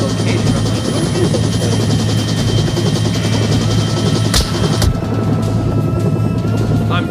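The evac chopper in the Onward VR video game thunders throughout as a loud, continuous rotor roar with a steady engine hum, broken by a couple of sharp cracks that may be gunfire.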